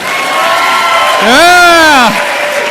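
A lively crowd at a sales keynote cheers and whoops, one loud rising-and-falling shout standing out above a bed of clapping and crowd noise.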